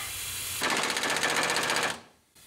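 An air impact wrench hammers at a bolt on a 1984 Ford F150 in one loud, rapid rattling burst lasting over a second, then cuts off abruptly with only faint background hiss around it.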